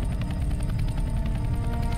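Helicopter in a CS:GO co-op mission, a loud, steady rotor thrum with rapid rhythmic chopping pulses and engine drone filling the whole moment.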